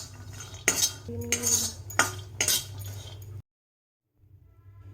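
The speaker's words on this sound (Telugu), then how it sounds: "వాల్నట్స్ వేసుకుని ఫ్రై చేసుకుందాం." Walnuts frying in a pan for protein laddus, stirred with a utensil, giving a run of close metallic scrapes and clinks over a low stove hum, then a sudden drop to near silence before faint rumble returns.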